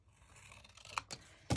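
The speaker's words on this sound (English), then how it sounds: "I'm just going to cut it with my scissors." Scissors snip through paper in a craft session, with a few quiet slides and a couple of crisp close cuts, the loudest right at the end.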